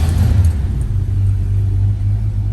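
A 1965 Ford Mustang C Code with a rebuilt engine rumbles at a steady low idle close by, a smooth deep drone with slight unevenness throughout.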